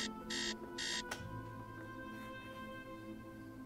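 An alarm going off late at night, two short bright electronic ringing bursts followed by a softer chime, then only a quiet steady hum.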